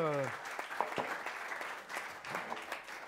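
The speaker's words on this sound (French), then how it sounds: "Merci à vous trois, on les applaudit." An audience at a French foundation event applauds, giving a dense burst of clapping that swells and fades over a few seconds while a voice speaks over it.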